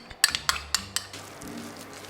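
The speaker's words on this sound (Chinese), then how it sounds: "继续翻炒，让倒入的材料都能裹上棉花糖" Egg yolk, almonds and biscuits are stir-fried into melted marshmallow for nougat. A utensil strikes the pan in about five quick, bright clinks, then softer scraping follows, with no talking.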